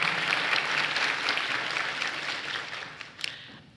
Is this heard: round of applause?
yes